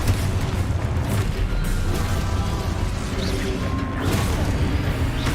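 Confringo explosion spells cast in a wizard video game, heard as a dense, continuous rumble of booms and crashing impacts layered over a steady low roar, loud and close throughout.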